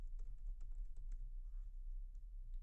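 Soft, quick keystrokes on a computer keyboard tap out a short word, a burst of clicks close by over a low room hum, then a brief pause.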